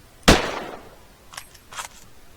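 A single sharp gunshot in the survival game HurtWorld, loud and close with a decaying tail, followed by two fainter distant bursts.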